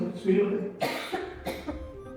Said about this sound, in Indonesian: Lu batuk mulu, makan permen mulu sih lu.